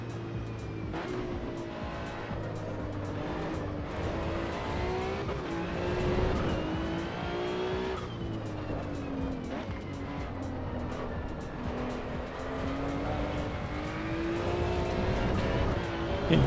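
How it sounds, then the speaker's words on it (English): A Maserati race car in Assetto Corsa EVO runs continuously at high revs, the engine note rising and falling through gear changes with tire noise beneath, loud and steady throughout. "Can't remember what engine's in this Maserati, but it's got a vicious torque curve on it."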